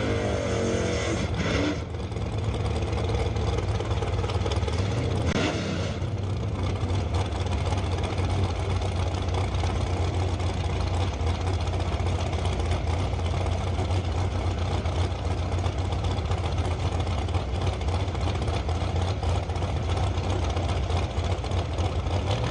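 A small-block and a nitrous-assisted big-block drag car engine idle at the strip with a steady, loud, rumbling burble. A few brief revs rise early on, then the idle holds level throughout.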